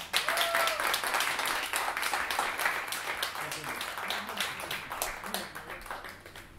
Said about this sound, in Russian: Продолжайте сидеть. Но хлопайте.